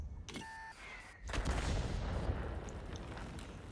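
A gunshot goes off during a video game replay: a sudden sharp blast after a quiet moment with a few short electronic beeps, then a loud sustained crackling roar that carries on to the end.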